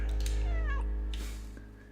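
A cat meows in the video game Stray, a bright, clear, falling meow up close followed by a softer second call, over a steady low game soundtrack hum.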